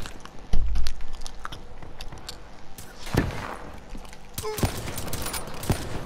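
Gunfire in Call of Duty: Black Ops III crackles in scattered sharp shots over a busy, noisy game background, moderately loud with a few distinct cracks toward the end.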